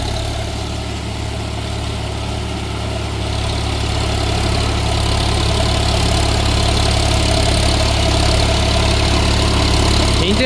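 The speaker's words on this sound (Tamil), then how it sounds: "நல்லா கர்ஜனையோடு ஓடுது இன்ஜின் பார்த்தீங்கன்னா" A Solis 4415 4WD 45 HP tractor, fitted with a rotary tiller for puddling work, runs with a loud, steady diesel drone close by. The engine note is continuous and slightly rising, with no voices.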